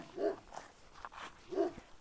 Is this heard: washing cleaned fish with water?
no